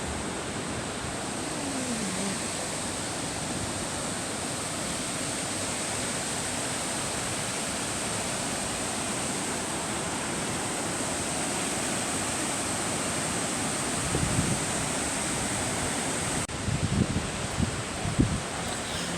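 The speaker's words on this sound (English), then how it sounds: "a majestic waterfall that stands as a testament to nature's unparalleled artistry" A waterfall cascades near Sandrift River on the Amatola coast of the Eastern Cape, a dense, steady roar of rushing water filling the scene at constant loudness, with a few faint thumps near the end.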